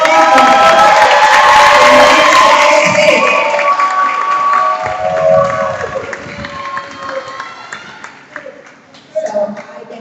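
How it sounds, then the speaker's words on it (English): Audience applause and cheering at a graduation ceremony, loud at first with crowd voices and shouts mixed in, then gradually fading, with a brief renewed burst near the end. "Please give a round of applause."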